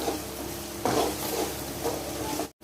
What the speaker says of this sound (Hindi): प्याज जब तक हल्की ब्राउन ना हो जाए तब तक भूनते रहें।